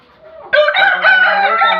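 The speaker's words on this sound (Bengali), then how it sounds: "এটা একটা মোরগ" A rooster on a Bangladeshi poultry farm crows once, close and loud, a short raspy call rising into a sustained harmonic cry.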